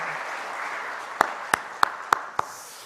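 A congregation at a church worship service applauds in a steady, roomy wash of clapping, with several sharper, louder claps standing out near the end.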